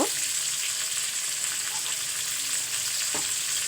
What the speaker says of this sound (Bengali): রোস্ট ভাজানো হয়ে গেল, এবার আমি উঠিয়ে নিব।